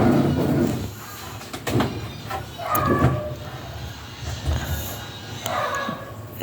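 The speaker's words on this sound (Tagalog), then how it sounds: "Kabit na natin yung pangalawang drawer niya, yung malaki." A large drawer slides into an under-cabinet unit, giving scraping runner noise and a few knocks and thuds as it is worked into place, fairly close.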